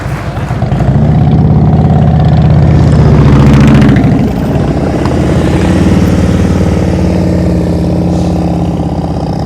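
A motorcycle engine hums steadily and close during slow-speed riding practice, the throttle held up and swelling briefly louder around the middle before settling back to an even drone.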